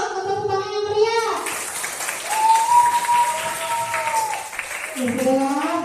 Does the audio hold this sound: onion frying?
no